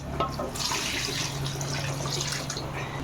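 Tamarind water pours steadily into a cooking pot, a continuous splashing rush of liquid with no talking.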